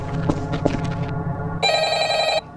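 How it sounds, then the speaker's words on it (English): An electronic telephone rings once in a sharp, steady trill, loud and close, following a stretch of noisy cartoon-game sound. "The phone ringing!"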